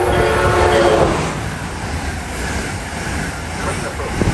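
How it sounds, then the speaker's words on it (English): An Amtrak Acela high-speed train rushes past a station platform, a loud, close, broadband roar strongest at the start and staying dense as the cars stream by. "waiting for an Amtrak Acela to go by"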